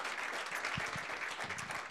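An audience at a think tank talk claps for a guest speaker. The applause is brief and dense and fills the whole short moment without speech.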